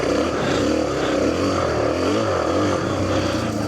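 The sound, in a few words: Suzuki DR-Z250 dirt bike engine while riding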